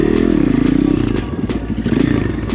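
An Apollo pit bike engine drones and revs steadily close by during a wheelie attempt, with clattering and a few thumps as the bike rocks, and faint voice-like sounds under the engine.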